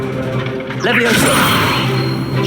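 A Levioso levitation spell is cast in Hogwarts Legacy: a loud magical whoosh sweeps upward, shimmering over a dense, busy game backdrop with mechanical clatter.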